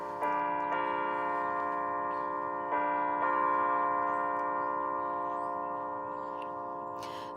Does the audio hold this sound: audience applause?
no